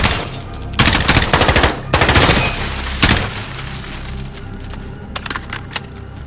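Bursts of automatic gunfire in Call of Duty Modern Warfare crackle loudly in several rapid volleys, then trail off into sparse distant shots.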